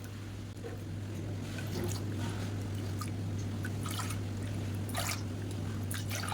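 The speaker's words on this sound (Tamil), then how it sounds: "இப்போ இதே கப்பில் ஒரு 6 கப் அளவுக்கு தண்ணி ஊற்றிக்கலாம்." Water poured from a cup into a cooking pot while making a millet, black urad dal and kavuni rice porridge; a steady, soft trickle runs throughout over a constant low hum, with a few brief brighter splashes.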